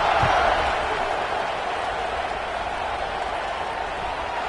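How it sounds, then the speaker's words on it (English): Stadium crowd in a football video game buzzing after a score, a broad steady roar of many voices that swells briefly at the start, then settles into a constant distant murmur. "this crowd is buzzing after that last score"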